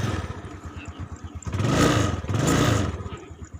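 A Yamaha Mio motor scooter engine idles close by, puttering steadily, then revs up twice in smooth swells before settling back to idle.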